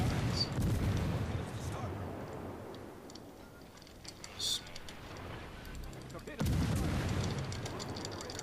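Warship guns boom in the naval video game World of Warships, with a couple of heavy blasts standing out over a rumbling battle soundscape and steady background game noise.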